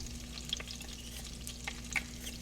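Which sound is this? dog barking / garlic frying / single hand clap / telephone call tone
garlic frying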